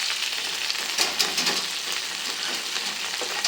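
Capsicum pieces fry in a pan, giving a steady, soft crackling sizzle with small pops and occasional stirring noises, close and without talk.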